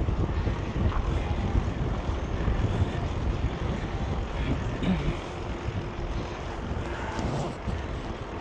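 Wind buffeting a microphone outdoors on the Little Miami Scenic Trail near Loveland, Ohio, a loud, continuous low rumble with gusty swells throughout.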